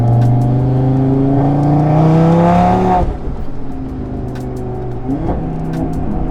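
A loud Stage 2 tuned Audi RS3 engine revs up steeply to about 5,500 rpm, then drops as it shifts from second to third gear, and pulls again, close by with no talking.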